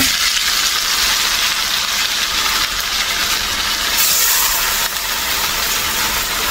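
Chital fish pieces fry in a large pan for a chital kalia curry, giving a steady, loud broadband sizzle that holds evenly throughout with no talking.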